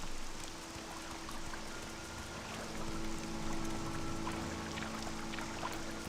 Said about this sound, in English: I'm gonna make so much noise splashing everywhere